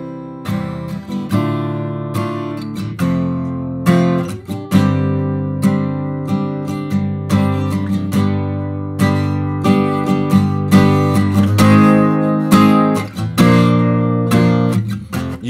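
Interrupted cadence played as a chord progression that resolves to a chord outside the scale, a series of sustained, ringing chords, close and clear with no talk.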